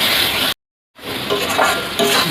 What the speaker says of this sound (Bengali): মশলাটা এবার ভালো কষিয়ে যতক্ষণ না তেল বেরোয় মশলা থেকে ছাড়ে তখন একটু কষিয়ে নেবো।